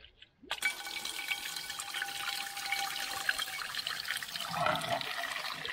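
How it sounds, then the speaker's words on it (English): Water rushing steadily from a heating system's drain-off tap through a pipe out the wall of a 1980s bungalow, a continuous close hissing gush that starts abruptly after a brief click and holds steady, with no voice. "So when you undo that with a special little socket, the system drains to a pipe that comes through the wall outside."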